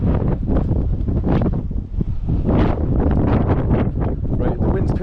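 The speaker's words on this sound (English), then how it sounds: "the wind's picking up now, my cap's starting to try and lift" Strong wind on an uphill hillside walk buffets the microphone in loud, continuous gusty roars that swell and ebb, close and dominant throughout.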